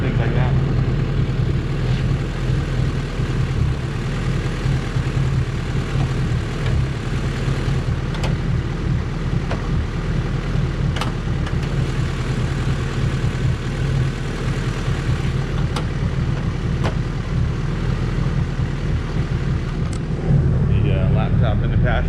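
Honda car with a high-compression D16Z6 engine on its first drive after a valve lash adjustment, a loud, continuous low rumble heard from inside the cabin, with the engine note shifting slightly and a few clicks and knocks over it.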